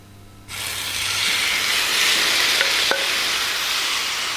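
Beef bulgogi sizzles loudly in a hot, lightly oiled pan, a steady broad hiss that starts suddenly as the meat goes in and holds strong, with a couple of faint clicks.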